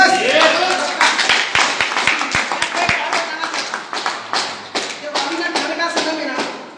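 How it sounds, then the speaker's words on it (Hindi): An audience at a product talk claps in a brisk, steady rhythm of sharp nearby beats, with voices mixed in. "एक बार ताली हो सकता है नोनी की।"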